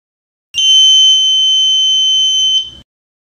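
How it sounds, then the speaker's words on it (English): An electronic buzzer on an IoT smart toll gate sounds after an invalid card swipe, a single loud, steady high-pitched tone lasting about two seconds, then cutting off. "Whenever we swipe the invalid cord, gate will not open and buzzer will on."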